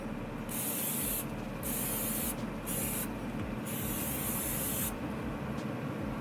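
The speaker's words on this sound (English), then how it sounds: "I'm just going to hit it with a little bit of cooking spray." Several bursts of cooking spray onto a prime rib, each a second or so of steady hiss with short pauses between, close and loud over a low background rumble.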